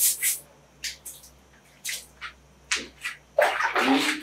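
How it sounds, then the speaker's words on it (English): Water poured and splashed while a fish pond is washed, coming in short separate bursts of splashing and spraying, then a longer, louder run of sloshing and pouring near the end. "Once you pour water, you wash,"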